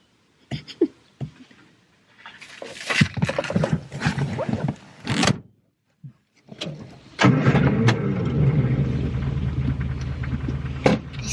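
A vintage car engine cranks and catches after some clunks and rustling, then settles into a steady rumbling idle as the car pulls away, heard from inside.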